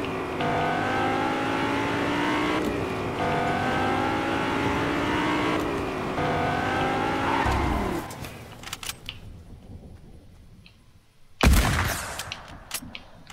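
A car engine in the Fortnite video game revs and drones loudly for several seconds with rising pitch sweeps, then fades as gunfire and other game effects break in.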